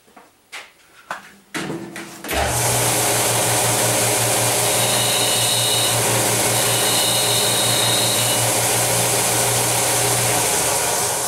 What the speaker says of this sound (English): I'm going to take a nail. Then I'm going to sharpen it,